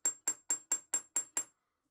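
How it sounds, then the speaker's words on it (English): A hammer strikes a centre punch on a Stuart 5A steam engine's steam chest, marking a hole position: seven sharp, evenly spaced metallic taps about a quarter second apart, close and clear, then silence. "Here I'm using a centre punch to mark the position for the hole."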